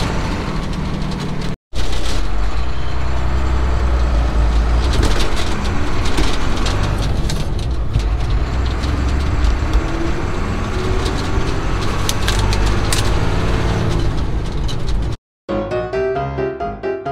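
Inside a vehicle driving along a road, a loud, steady rumble of engine and road noise continues close by, with a couple of brief cuts to silence.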